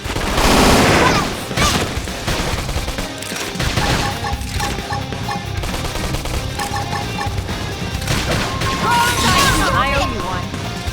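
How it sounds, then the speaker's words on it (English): Rapid bursts of gunfire and crashing impacts erupt during a combat battle in Xenoblade Chronicles X, mixed with game music and character voices shouting. "Knock him over with gunfire!"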